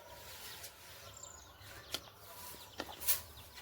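Hens clucking faintly at a village poultry coop while laying eggs, with a few sharper calls standing out over a low, steady outdoor background.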